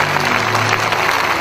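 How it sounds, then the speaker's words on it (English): Loud, dense clapping from a church congregation during a Friday night vigil, a continuous wash of many hands close by with a low tonal hum underneath. "Let us clap to Jesus."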